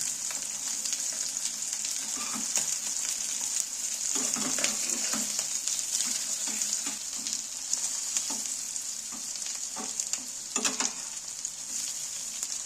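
Egg and radish pieces fry in hot oil, a bright continuous sizzle with occasional soft bumps and scrapes as each piece is turned over; no voices.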